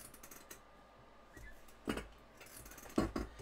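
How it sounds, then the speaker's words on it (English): An eight-year-old office chair that is falling apart creaks and clicks in scattered bursts, with two louder strained creaks standing out against a quiet room. "And like the whole thing just creaks like no tomorrow."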